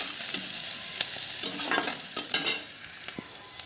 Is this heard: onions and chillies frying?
yes